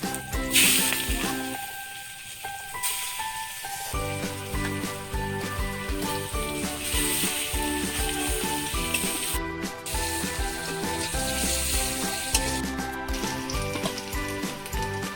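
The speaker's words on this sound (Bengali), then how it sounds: "মাছ ভাজা হয়ে গেছে, তেলে দিয়ে দিলাম পাঁচফোড়ন" Panch phoron, a Bengali five-spice mix, hits hot oil left from frying fish, giving a steady close sizzle and crackle that drops off briefly near the start, then continues with tonal layers.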